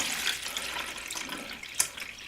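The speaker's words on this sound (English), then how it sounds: "fill the base here with just lukewarm" Lukewarm tap water running into the base of a hydroponics unit as it is filled. The stream gives a faint, steady splashing trickle with a small bump of sound near the end, and there is no talk.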